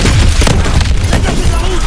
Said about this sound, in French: Lance-roquette!